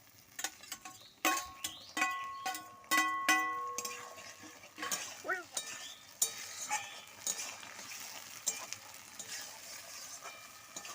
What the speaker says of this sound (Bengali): আমি পেঁয়াজের মধ্যে টমেটো কুচিটা দিয়ে একটু লাল লাল করে নেব।